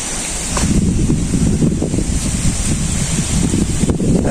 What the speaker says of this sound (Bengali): এখন বাতাস শুরু হয়ে গেল কেবল।